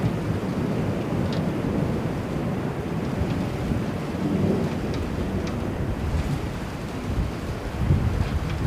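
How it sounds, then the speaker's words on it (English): A thunderstorm with a dense, steady wash of rain and wind plus low rumbling thunder swelling underneath, loud and continuous throughout with no voices. "thunderstorm."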